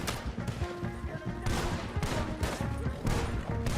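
Gunfire from the Red Dead Redemption 2 video game: several loud rapid bursts of shots in quick succession, crackling over a busy game soundscape.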